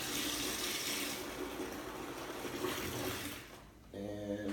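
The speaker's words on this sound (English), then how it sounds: "Now we're just adding tap water right out of the tap." Tap water pours straight from a faucet in a steady, close broadband rush for most of the moment, thinning near the end before a short tonal hum or voice-like sound takes over.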